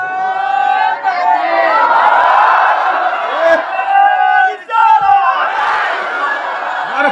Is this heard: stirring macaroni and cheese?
no